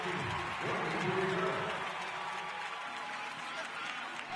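A stadium crowd in an EA Sports football video game, Miami Dolphins home game, gives a broad, steady roar and applause while a commentator voice talks over it.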